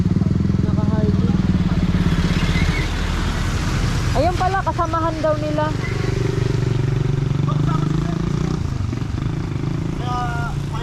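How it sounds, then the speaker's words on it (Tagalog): Harley-Davidson motorcycles ride past on the Marilaque road, their engines rumbling loudly and throatily with rising revs, while people talk nearby. "Oo nga, yung mga gwapong motor. Naka-Harley."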